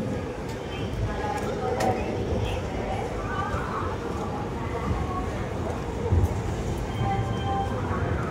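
The 17253 Guntur–Aurangabad Express pulls out of Secunderabad Junction: a steady low rumble of moving carriages with faint wheel clicks, heard from on board, while a person talks.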